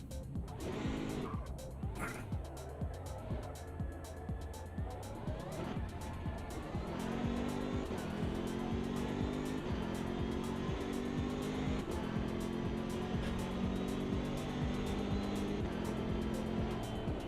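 A BMW race car in a racing video game drives with a steady engine drone and shifting revs, with tire squeal near the start.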